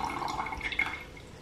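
Boiling water is poured into a cup holding dissolved drug capsules, giving a short, close trickling and splashing with faint dripping and no talk.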